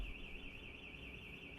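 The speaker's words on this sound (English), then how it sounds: "Someone had a problem with the car. The alarm went off." Car alarm going off outside, a steady warbling siren tone sounding continuously throughout, distant and muffled with no talk over it.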